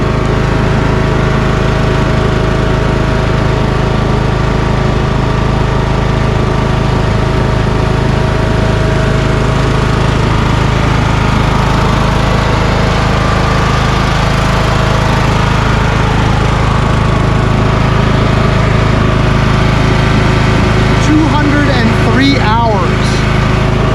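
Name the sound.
Craftsman YS4500 lawn tractor with Kohler Courage 19HP engine running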